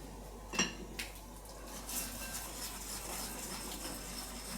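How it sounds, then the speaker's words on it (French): Rice starch being stirred into blue-tinted water in a bowl, with a few sharp clinks of a utensil against the container early on, followed by softer continuous swishing and light knocks. "Et je vais remuer tout ça."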